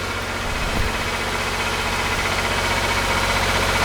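A Geka Bendicrop 60S 65-ton hydraulic ironworker runs with a steady, loud mechanical drone and low engine-like hum, holding constant for the whole stretch with a brief thump near the start.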